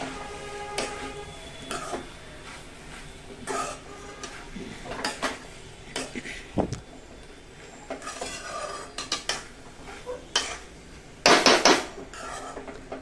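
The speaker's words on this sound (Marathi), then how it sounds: "आता ही भाजी एक छान मस्तपैकी हलवून घेऊया" A spoon stirring bottle gourd sabzi in a pot, with irregular metallic clinks and scrapes against the pot at close range and a sharper cluster of knocks near the end.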